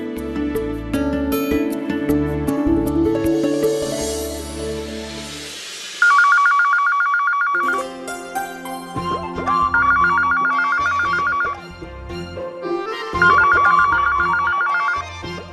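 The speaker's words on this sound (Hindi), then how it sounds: "अरे कोई फोन तो उठाओ।" A phone's electronic ringtone trills in repeated bursts with short pauses between them, following a stretch of music and background sound.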